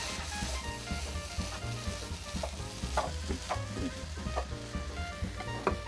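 Fish sauce sizzles in a hot pan while stir-frying spring roll filling. The frying crackles steadily at moderate volume, and the scrape of a stirring utensil comes in at intervals.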